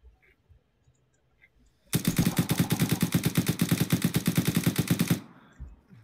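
In the video game Arma III, a long automatic burst of gunfire rattles out loud and close, with rapid evenly spaced shots continuing for about three seconds before cutting off.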